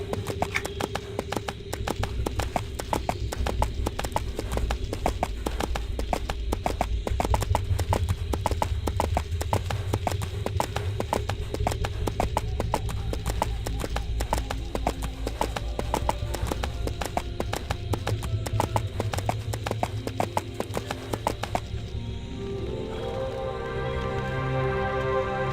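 Steady, rapid clip-clop of horse hooves while riding in the EverQuest II video game, a continuous galloping rhythm over a low game soundtrack that stops near the end.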